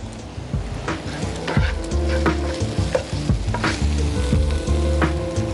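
Green chilli and Kashmiri chilli powder crackle loudly in hot oil in a studio kitchen, with a dense sizzle, frequent sharp pops and spoon scrapes, plus some low hum.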